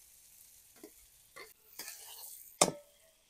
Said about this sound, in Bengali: এরপর নেড়ে চেড়ে বেগুন ভাজাটা ঢেলে দেব।